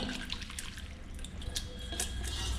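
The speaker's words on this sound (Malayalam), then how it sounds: "ഇത്തിരി ചൂടുവെള്ളം നമുക്ക് ഒഴിച്ച് കഴുകാന്ന് പറഞ്ഞാൽ" Hot water poured over and rinsing leaves of the medicinal plant Biophytum sensitivum, heard as a soft, continuous trickle with scattered drips, close and steady throughout without any talk.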